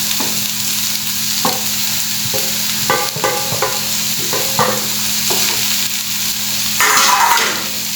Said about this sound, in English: Now we'll add our beef.